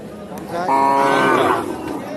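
A cow at a busy cattle market moos once, loud and drawn out over a low crowd murmur.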